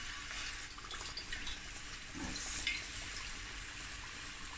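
Fish pieces drop into hot oil for fish and chips and fry with a steady crackling sizzle. A brief splash and louder fizz come midway. There is no talking.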